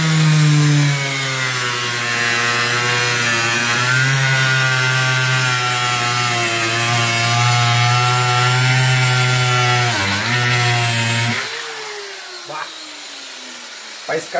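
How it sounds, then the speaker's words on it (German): An angle grinder whines steadily while cutting, its loud motor pitch wavering slightly, then stops and leaves a few faint clicks. "Also mache ich jetzt hier einen ersten Schnitt mit der Flex."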